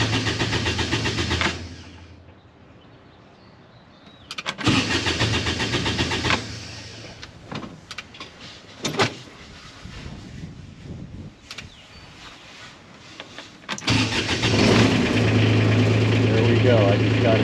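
A Kubota RTV with a newly replaced starter turns over and fires, then the engine idles; the run drops away briefly while a person talks and handles things nearby, and the idle returns strong at the end.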